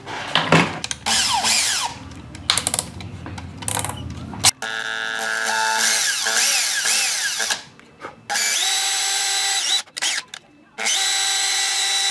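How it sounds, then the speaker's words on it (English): A power drill bores into a homemade crawdad fishing lure, whining loudly in sustained bursts with pitch shifts as the bit bites, stopping and restarting several times close to the microphone. "I think I'm just gonna drill straight between the two pinchers as deep as I can get it."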